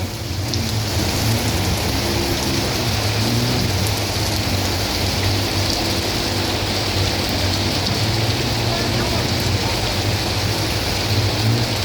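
Heavy, steady rain pours down continuously on a flooding street at Pratunam where drains cannot keep up, a dense roar of drops with a low rumbling hum underneath and no voices.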